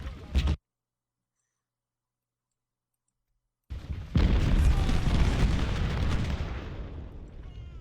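Artillery fire in the Civil War strategy game Ultimate General: Civil War: a short burst of battle noise, a gap of silence, then a loud, dense, sustained roll of cannon booms and rumble.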